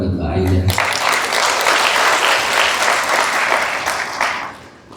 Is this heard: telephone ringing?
no